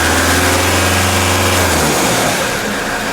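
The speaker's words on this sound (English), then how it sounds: "So when I rev up the engine," A RAM ProMaster van's 3.0L engine, in limp home mode with low power, idles loudly up close, then revs up, its steady hum breaking into a rising, rougher roar.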